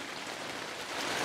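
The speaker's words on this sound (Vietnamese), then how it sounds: "Cái bữa nay trời mưa." Rain falls on a garden with herbs and vegetables, a soft, even hiss of drops that stays faint and continuous through the short moment with no voices.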